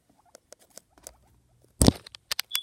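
Guinea pigs shuffling and scurrying in their enclosure, a series of faint scattered taps and rustles followed by one louder brief scrape and a few quick patters near the end, with no talking.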